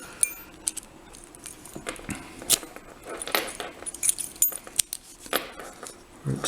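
Keys jangle and click against a Kryptonite bike lock as it is locked, with a sequence of sharp, bright metallic taps and rattles at close range.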